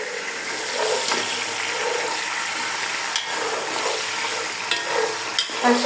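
Small pieces of mutton sizzle in a pot of fried onions for haleem as they are stirred, a steady hiss of frying with occasional scraping clinks, close and moderate in level, with no talking.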